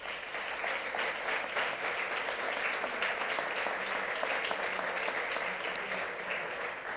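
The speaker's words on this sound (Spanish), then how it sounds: "yo me gustaría tener un aplauso porque la labor de ellos también es muy importante" Sustained applause from an audience at a talk on unwanted loneliness and support networks for older people, a steady dense clapping that fills the whole stretch without pause.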